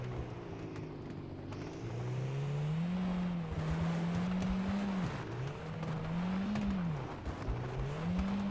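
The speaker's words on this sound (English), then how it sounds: "I can hear that engine revving away" Car engine in the Beware horror driving game revs steadily and loudly, its pitch rising and falling in repeated sweeps with no talk over it.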